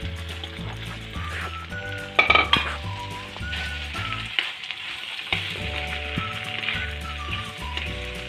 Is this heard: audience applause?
no